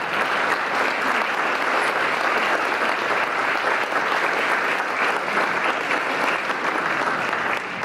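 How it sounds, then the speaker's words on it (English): A banquet audience at a 2014 farm-city award program claps warmly for honorees, sustained dense applause at an even level for several seconds before it starts to fade. "Let's give them a round of applause."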